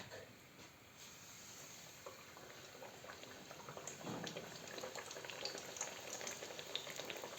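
Chebureki, Ukrainian dough pastries, frying one at a time in hot oil, a steady bubbling sizzle that grows a little louder and busier partway through, close by with no talking.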